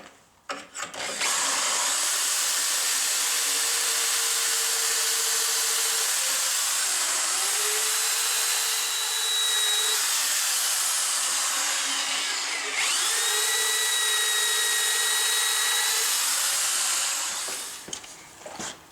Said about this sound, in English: Once we drill our hole here, we'll repeat here and here.